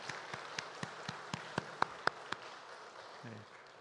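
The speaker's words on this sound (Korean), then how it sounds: "우리 뜨겁게 영광의 박수를 하나님께 올려드립니다" About ten crisp, separate claps ring out in an even rhythm during a church service, faint and sparse, with little else but quiet room tone.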